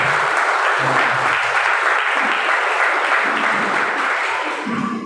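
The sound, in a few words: congregation clapping loudly in praise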